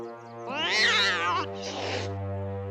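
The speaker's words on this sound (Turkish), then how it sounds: "bu kediyi kim aldı?" A cartoon cat gives a single drawn-out meow, loud and close, then a shorter second cry, in a scene from the animated series Mia and Me.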